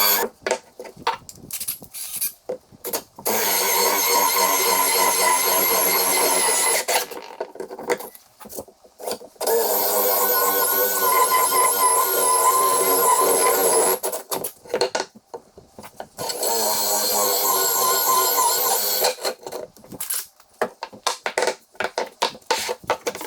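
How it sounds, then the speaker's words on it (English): Power drill boring pilot holes and then drilling from both sides through a board while building a wooden boot jack, three sustained loud grinding bursts of several seconds each, separated by short pauses with no talk. "I'll make a pilot hole, and then I'll drill from both sides to prevent any tear out."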